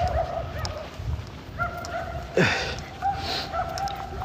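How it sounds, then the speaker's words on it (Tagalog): A few dogs next door bark in short, scattered bursts a little way off, over a steady background hum and some faint chatter. "Walang tigil itong mga aso dito sa kabila eh."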